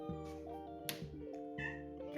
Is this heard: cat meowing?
yes